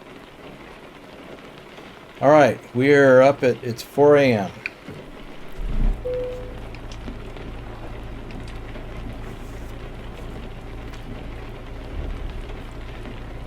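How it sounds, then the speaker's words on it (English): Someone speaks briefly, then steady rain patters on a truck under a low engine-like hum in American Truck Simulator, continuing evenly to the end. "Oh, it's raining."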